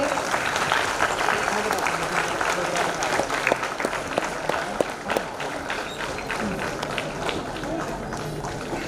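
A standing audience gives loud, sustained applause to welcome the chief guests at a formal event, a dense continuous roar of clapping with sharp individual claps poking through.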